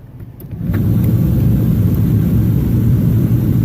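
A loud, steady car blower fan in a Jeep Grand Cherokee, freshly repaired, roars at full high speed with a broad whooshing rush, kicking up sharply after a brief quieter start.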